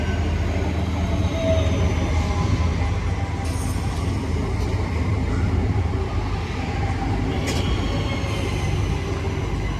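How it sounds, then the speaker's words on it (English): A West Midlands Railway Class 323 electric train, units 323219 and 323241, pulls into University station in Birmingham with a steady close rumble, wheel noise and a few brief high squeals. "Here comes the 1123 West Midlands Railway service to Redditch from Four Oaks."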